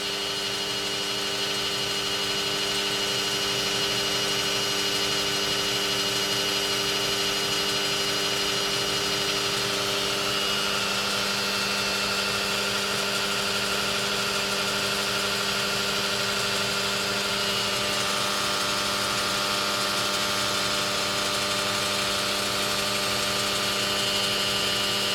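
A Tinius Olsen Super L 400,000 lbf hydraulic compression tester runs with a steady, even mechanical hum and drone, holding at a constant level throughout with no pauses.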